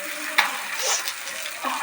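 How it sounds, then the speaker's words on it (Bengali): Fish fries in a pan, already turning slightly burnt, giving a soft continuous sizzle with a brief clink and some faint splatter near by. "মাছ ভাজা বসিয়ে দিয়ে গেছিলাম একটু বাইরে"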